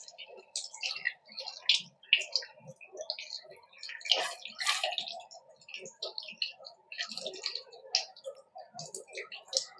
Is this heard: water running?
yes